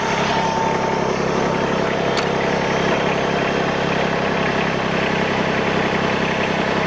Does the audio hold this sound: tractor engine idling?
yes